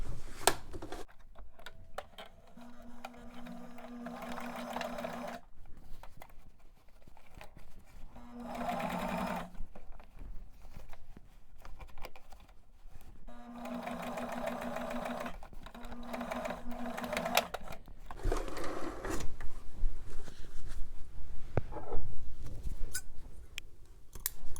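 Sewing machine stitching the waist of a pair of pants, running in several bursts of steady rapid whirring with short pauses between them and handling noise in the gaps.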